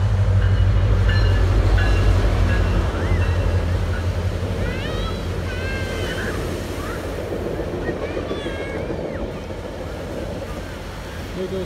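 A Metrolink commuter train bound for downtown San Bernardino passes during the evening rush with a loud, rumbling roll that fades slowly, while brief squeals and faint voices sit underneath.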